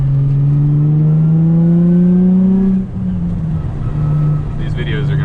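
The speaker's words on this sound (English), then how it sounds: "Hopefully the wind noise isn't too much for you guys." Wind noise and engine drone inside a Nissan 350Z cruising on a highway, a loud steady rush with a low engine tone that drops slightly partway through, with no talk.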